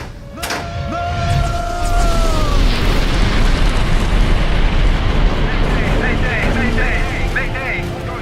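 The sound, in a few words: explosion on board a ship in dramatized recording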